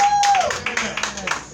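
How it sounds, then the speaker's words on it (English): Audience applause with scattered claps at an open-mic poetry night, a tone then irregular hand claps building moderately near the mic, with some talk underneath. "Give a big round of applause like that"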